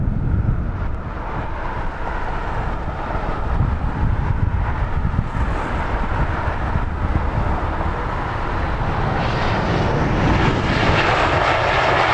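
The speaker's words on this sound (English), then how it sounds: "Aer Lingus next in, another one from Dublin" An Aer Lingus airliner arriving from Dublin roars in to land at London Heathrow, a loud, steady jet engine rumble with wind noise, heard nearby for the whole stretch.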